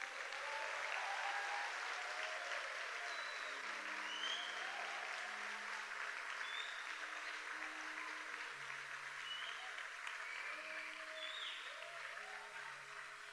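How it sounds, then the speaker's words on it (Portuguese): Sustained applause from a church congregation during a sermon fills the whole stretch, a dense, steady wash of many hands clapping with faint cheers and voices mixed in. "Você pode bater uma salva de palmas para isso, cara?"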